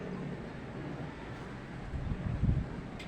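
Strong wind gusts across a home balcony terrace, a steady breathy rush with a louder buffeting burst near the end.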